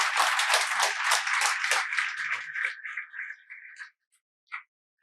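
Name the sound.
audience applause for selected candidates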